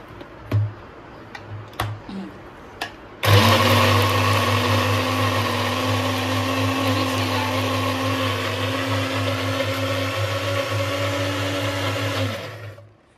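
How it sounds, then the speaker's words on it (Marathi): A brand-new kitchen mixer grinder switches on after a few handling knocks, its motor roaring loud and steady at close range with a constant high whine for about nine seconds before cutting off abruptly. "आता मी लावणार आहे. माझा नवीन मिक्सरचं उद्घाटन करते."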